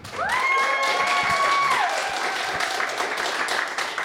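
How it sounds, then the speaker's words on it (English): Loud, full applause from an audience in a live radio broadcast setting, continuous dense clapping with a brief rising whistle-like tone near the start before settling into a steady roar. "Another round of applause, please."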